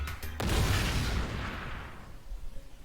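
A video-game explosion in Danganronpa V3: one loud, sharp boom with a rumbling tail that slowly fades over a couple of seconds, with no talking.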